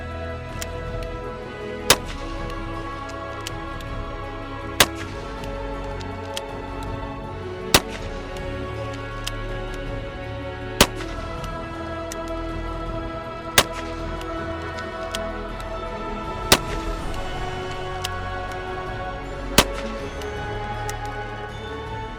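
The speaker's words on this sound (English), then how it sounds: "Pull the hammer back, pull the trigger, and boom, your first round goes off." A Civil War-era repeating rifle fires roughly seven sharp shots, evenly spaced about three seconds apart, over a constant low hum, with no voices between the shots.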